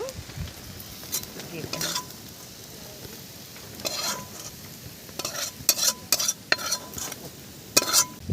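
Shrimp with chili powder sizzle in a pan as a spoon stirs and scrapes, giving a soft steady fry under irregular sharp metallic clinks of utensil against the pan.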